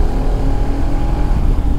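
A Bajaj Pulsar RS200 motorcycle engine runs in fourth gear after an air filter change. It gives a close, steady, droning hum with a low, throbbing rumble underneath, continuous and alone.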